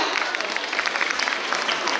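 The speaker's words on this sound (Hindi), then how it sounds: "तो प्लीज हमारे इन यंग अचीवर्स के लिए खूब सारी तालियां बजाइएगा" School audience applauding young achievers at a results ceremony, a dense steady wash of clapping filling the whole stretch with faint voices mixed in.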